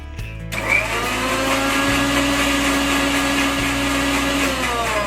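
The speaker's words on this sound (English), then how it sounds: "First add your eggs to the mixer grinder and just give it a very little flip." A kitchen mixer grinder whirs steadily after a brief start-up burst, spinning eggs in its jar, a loud continuous motor whine held close for several seconds with no talk.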